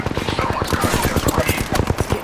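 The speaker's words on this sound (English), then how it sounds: "Getting shot at." Rapid, rhythmic bursts of gunfire strike a player in the battle-royale shooter Apex Legends, dense and loud throughout, with a faint voice mixed in.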